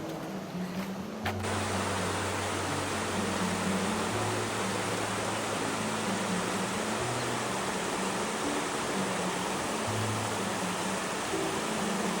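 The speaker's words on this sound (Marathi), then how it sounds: "ही आमच्या जांभवडी गावातली मेन नदी मोठी" A large river in Jambhavadi village flows with a steady, even rushing wash, a constant broadband noise with a faint low hum running beneath it.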